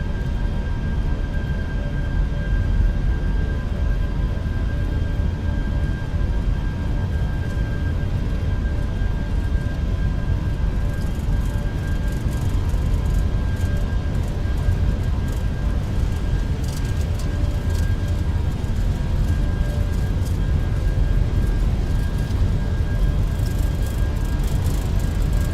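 Airliner engines spool at a steady, loud roar during a takeoff roll in a flight simulator game, a continuous broadband rumble with a faint whine, holding constant throughout with no voices.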